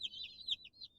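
Cornish Rock chicks cheep in a steady, close chorus of high peeps, packed together in an enclosure outdoors in Florida.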